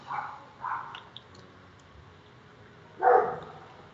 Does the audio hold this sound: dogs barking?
yes